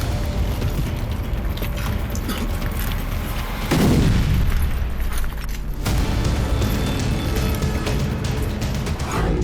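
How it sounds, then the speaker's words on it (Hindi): Explosions from Ukrainian strikes on Russian cities, heard as a continuous heavy rumble of blasts and booms with a big surge partway through, loud and dense with no pauses. "बुधवार से ही रूसी धरती पर यूक्रेन का भीषण विस्फोट जारी है।"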